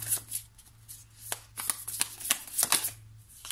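A tarot deck is shuffled by hand up close, giving a run of crisp, papery riffles and flicks in quick irregular bursts, moderately loud, with no talking.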